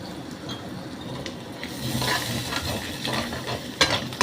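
Spices frying in a pan while being stirred, a soft sizzle rising under scraping utensil strokes and a couple of sharper clinks near the end, close and moderately quiet, with no talking.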